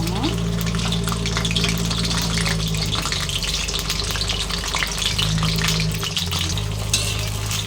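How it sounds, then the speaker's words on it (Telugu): Ivy gourd (tindora) fries in hot oil with a continuous dense sizzle and light stirring, over a low steady hum. "ఆయిల్ అయితే హీట్ అయిపోయింది కదండి ఇప్పుడు దొండకాయల్ని ఫ్రై చేసేసుకుందాం"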